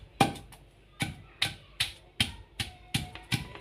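Onion pounded in a stone mortar for okra chutney: eight sharp, evenly spaced thuds about a beat apart, close and crisp, with no talking.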